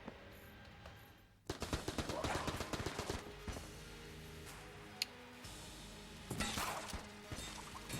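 Gunfire in the video game Enter the Gungeon erupts after a quiet second as a fast, clattering stream of shots, then settles into softer game sounds before a second burst of rapid firing near the end.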